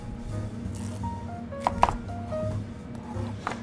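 A knife cuts a chayote in half on a cutting board in a kitchen, a few soft chopping knocks and scrapes heard close up under a low background hum, with no talking.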